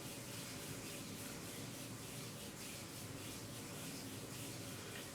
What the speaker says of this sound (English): just rubbing the palms together for a moment